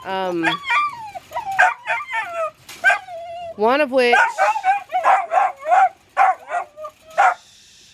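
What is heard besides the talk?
puppies barking and yipping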